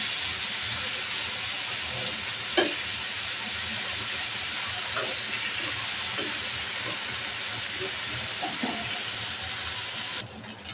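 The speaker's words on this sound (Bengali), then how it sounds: "মাছগুলো ভাজা হয়ে গেছে" Fish frying in hot oil in a pan, a continuous loud hiss with faint crackles and a few brief pops, steady throughout with a slight change near the end.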